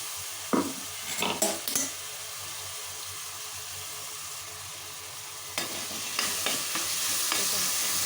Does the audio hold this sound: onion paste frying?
yes